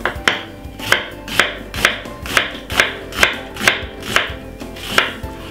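A knife finely chops white onion on a cutting board in a steady rhythm of about a dozen crisp, evenly spaced strokes, close up and clear with no voices.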